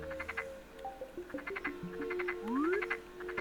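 Cartoonish frogs in the Animal Crossing video game croak in quick repeated bursts of several calls, sounding close and steady over soft synth music tones and gliding notes.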